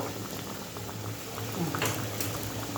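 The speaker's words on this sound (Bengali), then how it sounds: "একটু ফুটে ফুটুক, নামিয়ে দেবো।" Potato curry with coriander leaves simmers in a pot, giving a quiet continuous bubbling with soft pops and occasional brief clinks of a utensil nearby.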